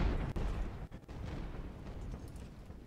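Age-of-sail artillery fires in Ultimate Admiral: Age of Sail, a deep, heavy boom opening the moment and then rolling into a low, rumbling wash with a couple of duller thumps behind it.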